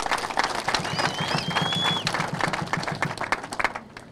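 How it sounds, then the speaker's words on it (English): Audience at a church-linked community football tournament event clapping for the clergy, a dense steady round of applause close by that thins out toward the end. "So we clap for our clergy."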